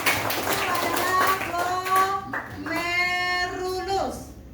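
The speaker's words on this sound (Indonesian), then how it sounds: "Tepuk tangan, benar." Students in a classroom clap their hands together, a short burst of applause mixed with children's voices and chatter that rises, dips briefly, then swells again before fading.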